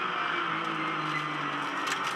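Porsche Carrera Cup race car on the Adelaide street circuit: a loud, steady engine roar held at high revs without a break, close and alone.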